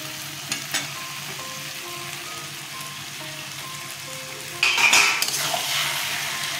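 Shrimp dropped into hot oil with softened eggplant at medium flame: a faint steady frying hiss with light utensil clinks, then a sudden louder sizzling burst near the end as the shrimp hit the pan, no voices.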